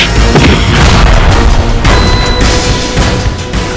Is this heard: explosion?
yes